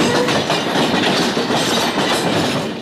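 An Amtrak City of New Orleans passenger train rolls along the tracks, a steady, loud, broadband rumble and rattle of railcars that holds constant throughout with no voices.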